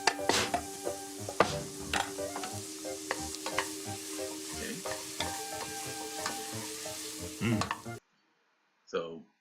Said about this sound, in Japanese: サラダ油を厚手の鍋を中火にかけてサラダ油を引き生姜を炒める。